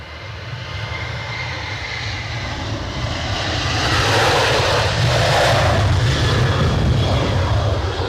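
Airliner engines roar on takeoff at a windy Edinburgh Airport, a loud, broad, continuous rumble that swells and intensifies toward the end as the plane climbs away.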